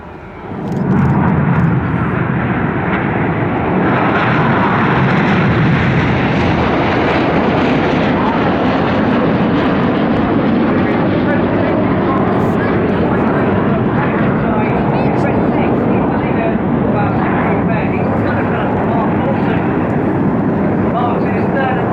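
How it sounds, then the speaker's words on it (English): Red Arrows jets flying an aerobatic display at Bournemouth, a loud continuous engine roar that swells and sweeps overhead, with a commentator talking over it. "The 5 aircraft on Enid fan out at the top."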